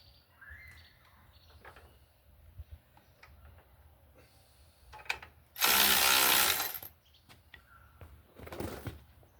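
A ratchet tightens the track adjuster on a Honda HS55-70-80 snowblower, with scattered small mechanical clicks and one loud, steady burst of dense ratcheting lasting about a second, followed by a brief fainter burst, no talking.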